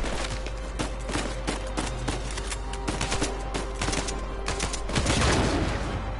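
Rapid bursts of gunfire from the video game Uncharted 4, loud and close, crackling in dense volleys with a heavier blast near the end.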